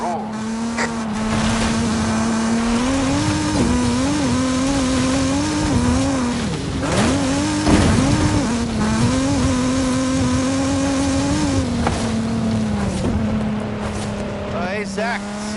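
A Mazda Miata racing in Forza Horizon 5, its engine droning steadily with pitch rising and falling through gear changes and occasional tire noise, loud and continuous under intermittent talking.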